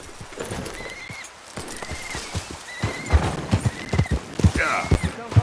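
A horse gallops in the Red Dead Redemption 2 game, with rhythmic hoofbeats that grow louder and heavier and a short whinny near the end.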